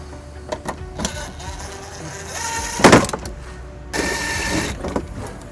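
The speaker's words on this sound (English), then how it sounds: "we'll use a 10mm socket to remove the 3 screws" A 10mm socket on a ratchet backs out screws during trailer hitch installation on a 2020 Toyota Highlander, with rapid mechanical clicking bursts and rattling, close and fairly loud.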